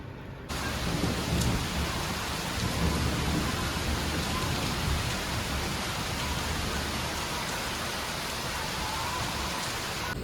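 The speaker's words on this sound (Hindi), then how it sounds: "दोपहर के 1:15 हो गए और मस्त बारिश।" Heavy rain pours steadily with a deep rumble of thunder underneath, a continuous dense wash of sound.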